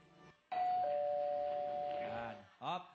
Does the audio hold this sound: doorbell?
yes